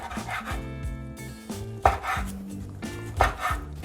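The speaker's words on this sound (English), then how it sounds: "slice some pieces" A kitchen knife cuts through a rolled Spam and rice kimbap in a few distinct slicing strokes, each ending in a firm thud on the cutting board, set against a faint tonal background.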